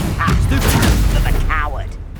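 A Confringo blasting spell goes off in the video game Hogwarts Legacy, a loud crackling burst of explosive booms and rattling blasts, with voices calling out over the din.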